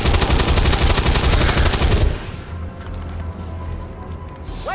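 Weapons fire in an XCOM 2 battle, a dense, loud burst of rapid automatic shots for about two seconds, then dropping away to quieter scattered reports and low ambient hum.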